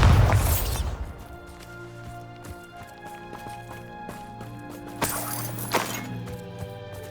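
A Bombarda spell blast in Hogwarts Legacy: a loud booming burst at the start, then a second explosive crash midway, over ringing tonal game music.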